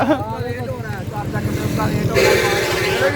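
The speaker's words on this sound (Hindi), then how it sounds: "ये बाइक है जी" A motorcycle engine running nearby at a fair at Kabeer wala Mela, a steady low putter under loud talk from people close by, with crowd noise growing toward the end.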